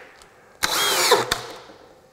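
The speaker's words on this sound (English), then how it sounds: "28 volts, way too high, but this drill will take it" A DEWALT 20V drill powered by a 28-volt AC adapter whirs up with a sharp start, runs for about half a second at a high steady whine, then stops with a click, loud and close.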